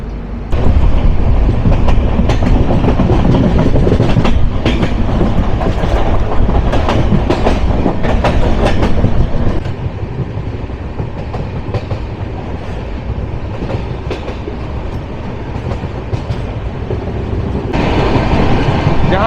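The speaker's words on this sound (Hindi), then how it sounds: "और हमारी ट्रेन अभी मोतीचूर रेलवे स्टेशन को पार कर रही है।" The Haridwar-Dehradun Shatabdi Express runs steadily along the tracks, a loud continuous rumble with rhythmic wheel clatter heard from inside the coach, easing slightly midway before picking up again.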